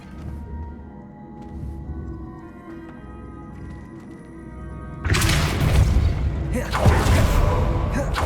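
A Depulso spell blast in Hogwarts Legacy, a low ambient rumble that suddenly bursts into a loud, wide whooshing roar, swelling again in a second surge near the end.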